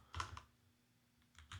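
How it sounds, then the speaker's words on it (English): Computer keyboard typing a short search word, a quick burst of several close, quiet key clicks, a pause, then a few more keystrokes at the end. "I'm just going to type in the word Google,"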